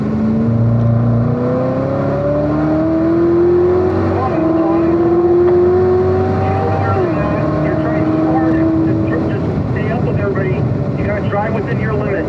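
A Corvette C7 ZR1 accelerates hard on a racetrack, its engine note climbing through the gears with a steady rising whine and roar, loud and close throughout, with a brief shift dip partway.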